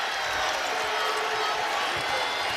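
A Bradley Braves home crowd roars steadily at a basketball tournament semifinal against Valparaiso, a broad, dense wash of cheering with no distinct claps standing out.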